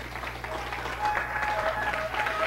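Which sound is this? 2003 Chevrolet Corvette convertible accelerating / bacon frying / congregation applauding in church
congregation applauding in church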